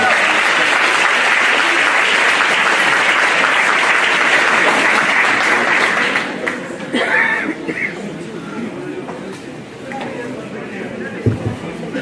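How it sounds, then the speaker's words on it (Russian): Audience applause at a product presentation in Russia greets a doctor invited onto the stage, dense and loud for about six seconds, then thinning out under scattered voices and light ambient noise. "Пожалуйста, ваши аплодисменты."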